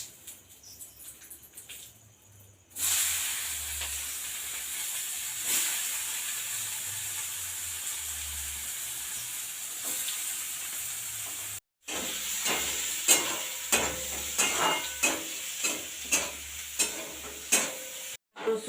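Cardamom, chopped onion, garlic and tomato hit hot fish oil in a pan with a sudden steady sizzle, a brief pause, then stirring that produces rhythmic scraping bursts over the continuous frying hiss.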